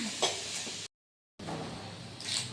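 Onions sauté in a pan, a soft sizzle with scraping stirs that cuts out briefly to silence midway, then resumes with more stirring, fairly close and not loud, without speech.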